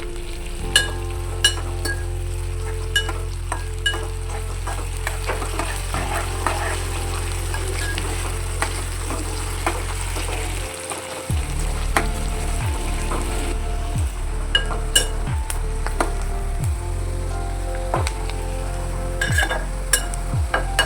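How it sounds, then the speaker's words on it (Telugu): Long-sliced onions frying in oil for dum biryani, a dense crackling sizzle with frequent scraping stirs, close up, over a low steady hum that cuts out partway through. "ఆయిల్ పొడుగు కట్ చేసుకున్న ఆనియన్స్ వేసుకొని బాగా ఇలా కలుపుకొని బ్రౌన్ కలర్లో వచ్చేదాకా కలపాలి"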